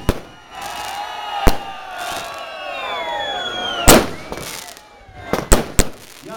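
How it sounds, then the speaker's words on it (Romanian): Fireworks burst at a commune day celebration in Glodeni, several sharp loud bangs spaced irregularly, with whistling rising launches and a cheering crowd in the background. "Se văd aceste artificii de departe"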